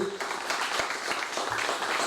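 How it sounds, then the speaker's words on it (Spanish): An audience at a labour reform talk and debate applauds with scattered, moderate clapping, heard fairly close for a couple of seconds with a voice over it. "Antonio Regué, el secretario general de ATE, también un aplauso para él"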